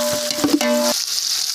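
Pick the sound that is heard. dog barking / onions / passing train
onions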